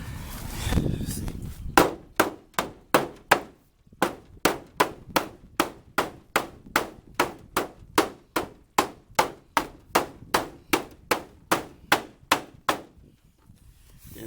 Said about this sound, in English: Take this hammer.